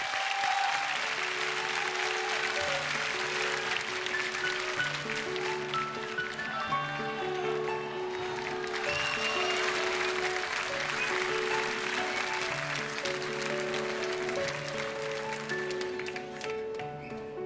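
Concert audience applauds strongly for a singer as he is introduced live, a long wash of dense clapping and cheering over sustained instrumental chords of an opening song.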